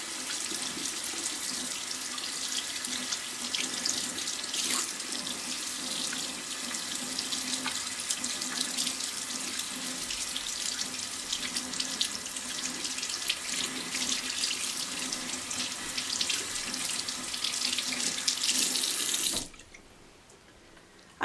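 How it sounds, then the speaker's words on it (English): Hands rinsed under a running sink tap, a steady close hiss of flowing water that lasts about nineteen seconds and then stops abruptly, leaving quiet. "how do you rinse? You don't rinse with your hands down"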